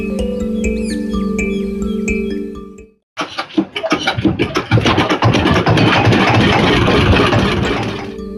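A motorboat engine on a Sundarbans boat ride sputters to life after a brief silence and settles into a loud, rattling, pulsing run. A sustained tonal musical passage plays before it.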